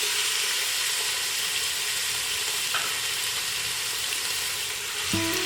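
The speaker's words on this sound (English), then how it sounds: "I'm just gonna go ahead and put my pork in it, and I'm going to let it saute for about 5 minutes." Pork browning in a hot Cosori pressure cooker on sauté, giving a steady, even sizzle that holds throughout, with a short clink near the end.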